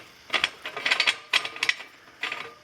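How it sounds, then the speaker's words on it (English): A BAL single-axle light trailer tire leveler for a pop-up camper being cranked up or down, giving several short bursts of close mechanical ratcheting clicks separated by brief pauses. "raising the leveler up or down to level your pop-up"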